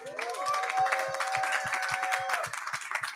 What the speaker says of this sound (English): let's hear a little round of applause